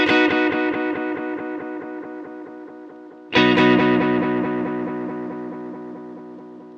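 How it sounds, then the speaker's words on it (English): Two plucked guitar notes ring through a Strymon TimeLine MX bucket-brigade-style analog delay, repeats stacking with gritty distortion; a second louder strike enters midway and decays. "As we turn that up, you hear more distortion products."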